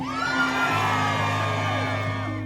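A crowd at an El Paso rally whoops and cheers continuously, with loud shouts and yells layered over a steady roar.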